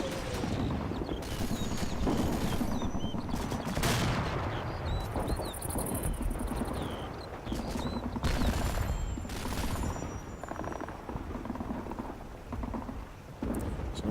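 Rapid bursts of MG42 machine-gun fire in the World War II strategy game Combat Mission Fortress Italy, with several loud, crackling volleys and distant booms layered over constant rumbling battle noise.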